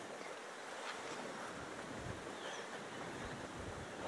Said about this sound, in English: So there's water pouring in.